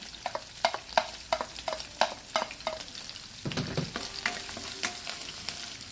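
Garlic and onion fry in olive oil in a pan, sharp scraping stirs coming in quick regular strokes over a soft sizzle, then a burst of louder crackling as more goes in; close, moderately quiet, no voices.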